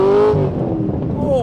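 Straight-piped Corvette exhaust rumbling and burbling close up, a loud engine note that dips and crackles unevenly over about a second, with a voice briefly present.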